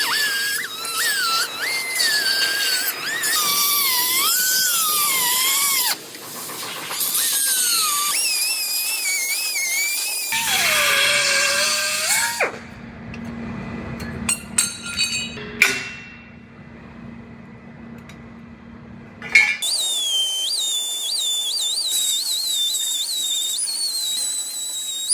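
A cutoff wheel trims a Jeep frame cross member with high, shrill whining grinding that rises and falls in long passes. It stops midway for a lower rumbling stretch with clinks, then starts again.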